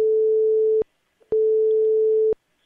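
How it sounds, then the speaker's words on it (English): A steady single-pitch tone on a phone line, a signal from another incoming caller, sounding in two long beeps of about a second each separated by silence, loud and clean. "I'm hearing a phone come on in here."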